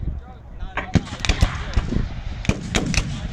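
A rippling volley of musket fire at a US Civil War re-enactment, a line of sharp, distant cracks going off one after another in irregular succession over background crowd noise.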